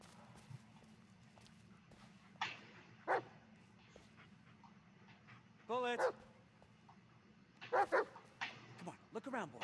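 Dog barks and yips from a companion dog in the Blair Witch video game, a few short bursts scattered through a steady low rumble of ambience, with a quick run of rising yelps near the middle.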